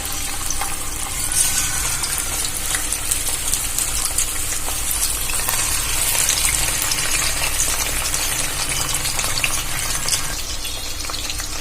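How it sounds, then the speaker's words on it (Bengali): Fish pieces frying in hot oil in a wok, a loud, dense, continuous hiss and crackle that stays steady throughout, close up with no talking. "আমি মাছগুলো এপিট ওপিট দুটো দিকেই খুব ভালো করে ভেজে নেব"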